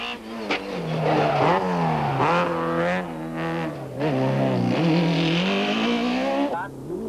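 Hannes Grobler's Bankfin Nissan Sentra rally car at the 1995 NGK Rally drives flat out through a stage, its engine loud and close, rising and falling through repeated gear changes under commentary.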